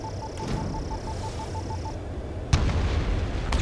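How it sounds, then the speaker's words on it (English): A single bomb explosion in the jet combat game Ace Combat 7 lands as a sudden sharp blast after a quiet stretch with a repeating beeping tone, then leaves a rumbling tail. "Mage 2, bombs away. Target destroyed."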